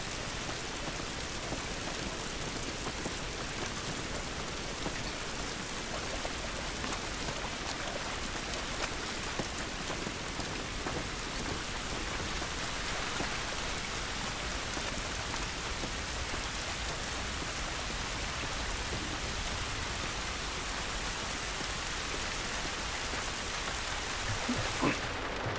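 Steady rain drumming on the roof of a semi-trailer in The Last of Us, a constant dense hiss of drops with no voices, holding at an even level throughout.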